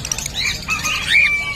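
Pet birds such as parblue opaline parrots at a busy bird market, giving a brief burst of overlapping high chirps and squawks close by against a murmur of background noise.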